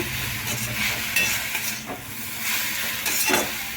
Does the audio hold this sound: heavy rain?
no